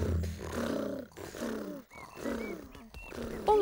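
Cartoon tiger characters in a children's animated show make voiced, rumbling purr-like growls imitating a tiger, in several drawn-out bursts over a few seconds, fairly loud and close with no plain talk.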